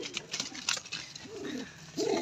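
Soft, rolling coos from pigeons in a coop with a hen on eggs come in short, low bursts, nearby and fairly quiet, with faint rustling between calls.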